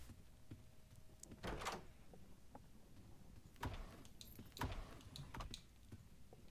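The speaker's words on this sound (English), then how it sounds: "New door sounds?" Door sounds in the Roblox game Doors after a graphics update; a few soft thuds and sliding knocks come in quick succession, faint against a hushed in-game background with no talking.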